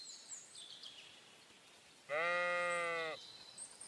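A single sheep bleats once, a clear wavering call of about a second, standing out over a quiet outdoor scene with faint birdsong in the video game Kingdom Come: Deliverance 2.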